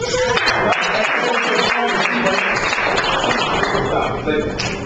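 A crowd's applause swells thick and loud, a sustained clatter of many hands that tapers slightly near the end, with a voice speaking over it.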